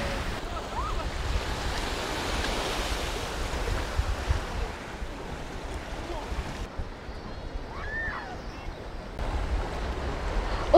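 Sea waves wash in with the incoming tide at Camp de Mar beach in Mallorca, a steady broadband surf roar under light wind buffeting, with faint voices in the background.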